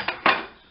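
An egg is cracked against a bowl rim in a home kitchen while making a quark cake: a light tap, then a sharper crack, close and clear with no voices.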